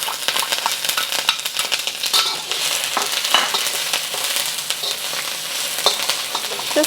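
Ginger and garlic fry in avocado oil over medium heat for a lettuce wrap, with a close, steady sizzle and crackle marked by frequent small pops and light clinks from stirring.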